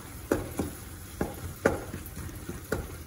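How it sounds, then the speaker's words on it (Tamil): Tomatoes sauté in a pan for tomato soup under a faint background sizzle, with several distinct spoon scrapes and knocks spaced irregularly. "இதில் வந்து தக்காளி வந்து நல்லா வதங்கி வந்தாச்சு. இன்னும் கொஞ்சம் வதங்கட்டும்."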